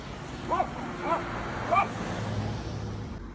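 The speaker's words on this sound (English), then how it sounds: "This dog hates police cars and will bark whenever they see one." A dog that reacts to police cars barks three times in short, evenly spaced yips, moderately close over a low background rumble, with the final moment trailing into quieter ambience.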